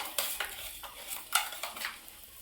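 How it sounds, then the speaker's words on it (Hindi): Dried red chillies fry in oil while being stirred in a pan, with repeated scraping strokes and soft clinks over a low sizzle, close by and without speech. "एबे चलंतु ए तेल रे सुकिला लंका पकेबा।"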